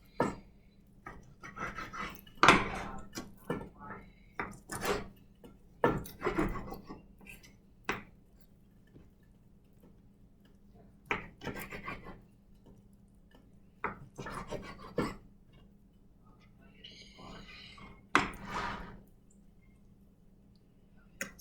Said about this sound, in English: I'm gonna just kind of cut them up and cube them. Cut it into strips first.